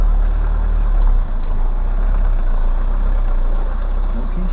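A tractor engine runs steadily in thick mud on a hillside track, a loud, continuous low rumble with a brief dip, filling the whole stretch without a break.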